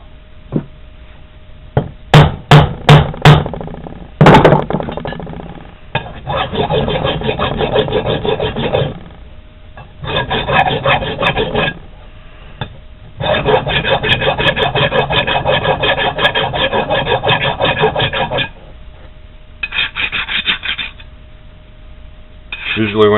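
A metal file rasps back and forth across a homemade exhaust part to take off burrs, in long, loud, steady strokes after a few sharp hammer knocks at the start.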